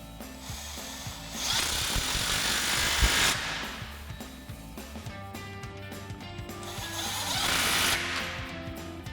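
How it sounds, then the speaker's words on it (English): Impact wrench with a 15mm socket tightening exhaust clamps on a RAM 2500, loud rattling hammering bursts close by, two longer runs with rapid impacts in between. "begin tightening down all of our clamps using our 15mm socket on our impact"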